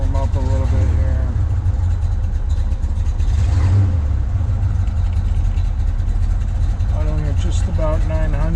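A 1965 Pontiac GTO convertible's 389 Tri-Power V8 idles just after starting, a loud, close, steady rumble that continues throughout while a voice talks briefly near the start and the end.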